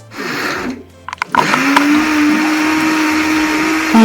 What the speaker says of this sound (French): je vais en profiter pour faire écraser mes épices